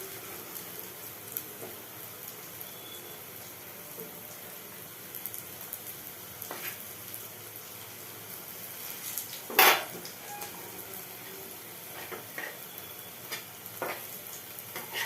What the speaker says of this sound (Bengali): একটু লাল লাল করে ভাজতে হবে